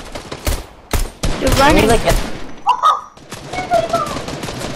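Pistol gunfire from a Fortnite Payload match: a few sharp, loud shots spaced irregularly, mixed with game effects and a player talking over them.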